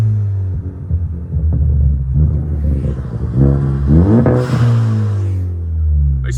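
A Ford Focus ST four-cylinder engine and exhaust rumble loudly up close. Revs rise and fall in a throbbing drone, with a sharper rev climb partway through, and nobody talks over it.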